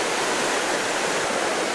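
Spring water boiling up and flowing out of a bluff in southeastern Missouri, a steady close rushing hiss with no pauses.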